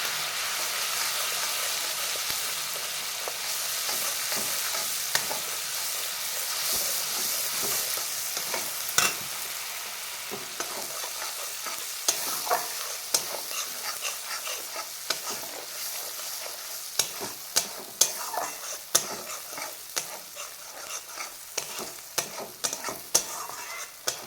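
Spices, turmeric and Kashmiri chili powder sizzle steadily in hot mustard oil while being stirred, with a continuous soft hiss broken by frequent scraping clicks of the spoon against the pan.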